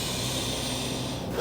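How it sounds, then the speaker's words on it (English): A single deep breath drawn in steadily through the nose or mouth before a game, close and loud, rising sharply at the very end. "just take like 3 big deep breaths"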